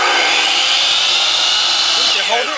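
A miter saw runs through a shrimp po-boy sandwich, a steady high whining motor held loud and close for the whole stretch, tapering slightly as the cut finishes.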